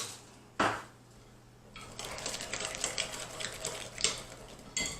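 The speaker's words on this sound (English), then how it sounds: "So I'm going to add about a couple of tablespoons of this water." Water trickles and splashes as a couple of tablespoons are poured into a bowl of keto bleu cheese dressing, with a sharp clink at the start and light kitchen clatter around the steady pour, close and moderately loud.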